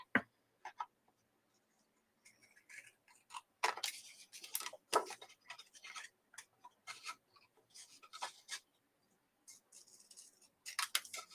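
Paper card being trimmed on a paper trimmer, scattered rasping slides and short scraping strokes with quiet gaps between, close and fairly crisp, no voices.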